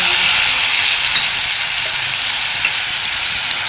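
Garlic and ground masala fry in hot oil with a loud, dense, even sizzle that holds steady throughout, close and uninterrupted, with no voices.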